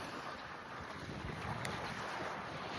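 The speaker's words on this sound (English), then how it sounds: "About an average of 20 mile an hour winds coming out of the direction I'm going." Strong headwind of about 20 mph buffeting a paddler on the Mississippi River, a steady rough roar of wind across the microphone with faint water sounds beneath and no talk.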